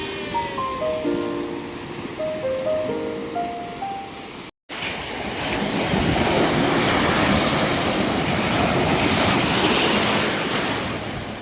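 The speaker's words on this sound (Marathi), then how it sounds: "आम्ही आता समुद्र किनारे आलेलो आहे" Ocean surf breaking on Guhagar beach on the Konkan coast, a steady loud roar of waves with wind buffeting the microphone, continuous after a brief cut partway through, with no talk.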